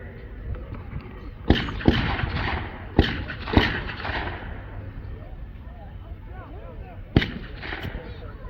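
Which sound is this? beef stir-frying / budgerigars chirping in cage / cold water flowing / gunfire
gunfire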